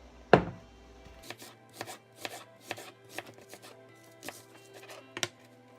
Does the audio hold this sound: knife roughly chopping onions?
yes